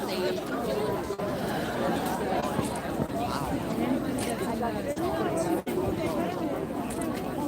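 Crowd chatter at a rally in Ottawa, a steady hubbub of many voices murmuring and talking at once, close and continuous throughout with no single voice standing out.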